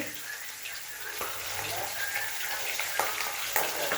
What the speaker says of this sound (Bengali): আর এখন হচ্ছে ইয়ে মাছটা আহের মাছ ভাজছি